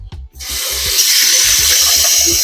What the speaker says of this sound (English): cold running water, I just start to wash my melon